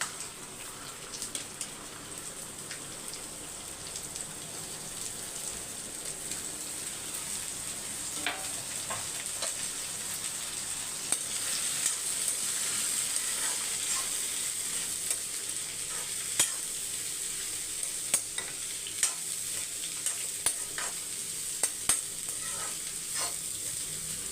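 Green beans stirred into hot oil with spluttering curry leaves, a steady soft sizzle with scattered crackling pops and scraping stirs throughout, fairly quiet and continuous with no talking.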